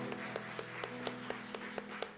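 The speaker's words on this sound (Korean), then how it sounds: "우리 하나님께 영광의 박수로 찬송합니다." During a church worship service, a congregation claps in unison in a steady beat of about four claps a second. The clapping is faint and distant over a sustained musical tone.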